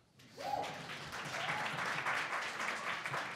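Applause from a lecture audience starts abruptly after a brief quiet moment and swells into a sustained, moderately loud wash of clapping that holds steady to the end.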